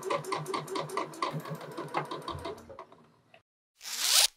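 Sewing machine running a straight stitch on a bodice seam, a fast regular mechanical chatter for about two and a half seconds that slows and stops, followed by a short loud rasp.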